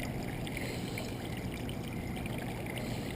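A creek runs steadily beside an Idaho carp fishing spot, a continuous broadband wash of moving water with no breaks, fairly close and even in level throughout.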